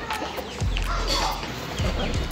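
Silkie, laying and native hens cluck and murmur softly while being fed, with a low rumble and a few close, brief clucks over a quiet background, along with a faint voice.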